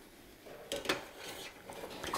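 A Uniflame frypan is flicked and shaken over heat, giving a few soft metallic scrapes and clinks that come in short bursts against a faint sizzling background.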